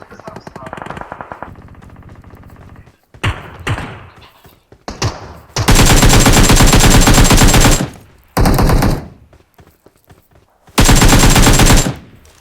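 An M249 machine gun fires in PUBG Mobile on an iPhone 11, with short choppy shots at first, then three long, loud sustained bursts separated by brief pauses, while players talk.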